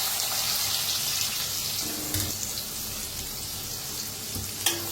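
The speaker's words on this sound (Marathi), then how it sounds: "कांदा छान असा भाजायचा।" Chopped onion and a pinch of asafoetida fry in hot oil in a pan for a dhaba-style matki recipe, giving a steady, close sizzling hiss with a few faint clinks and a sharp knock near the end. No one speaks.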